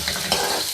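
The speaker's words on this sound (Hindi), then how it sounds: "सबसे पहले मैं ऑयल में प्याज ऐड करूँगी।" Chopped onion fries in hot oil, a soft steady sizzle with a faint stir, close and alone, very brief.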